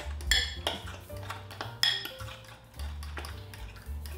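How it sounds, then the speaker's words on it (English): Eggs and bananas are mixed in a bowl, and a utensil clinks and scrapes steadily against the dish with frequent sharp taps and a low rumbling underneath. "I'm just gonna mix the eggs and the bananas together."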